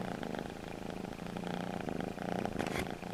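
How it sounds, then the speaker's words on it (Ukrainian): A cat purring softly and steadily up close, a continuous rhythmic rumble with a brief rustle near the end. "Дивіться, який він уже гарний, такий величенький, і як він муркоче."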